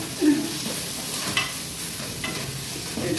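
Ginger garlic paste frying with prawns in a hot pan, a steady close sizzle with faint scraping from stirring running throughout.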